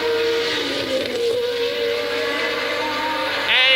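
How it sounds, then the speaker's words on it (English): Formula 1 race car engine at the 1981 German Grand Prix at Hockenheim holds a steady, high, buzzing note with a slight rise near the end, loud and alone without talk. "just that suspicious little rumpling of the engine note as Jones"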